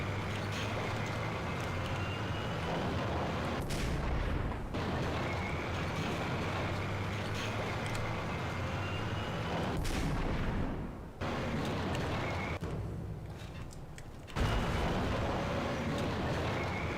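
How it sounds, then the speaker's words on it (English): Sniper rifle gunfire in the Max Payne video game, heavy booming shots with long echoing tails that fill the stretch, a few sharp breaks between rounds over a dense constant game backdrop. "Burning through all my freaking sniper rifle ammo now."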